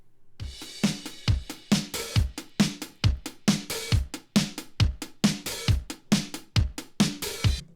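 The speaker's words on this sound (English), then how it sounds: "This is a drum part, also from Momentum, and it sounds like this." A sliced drum loop from the Momentum library plays as a tight, punchy beat, with evenly spaced kick and snare hits repeating in a steady rhythm, clean and alone.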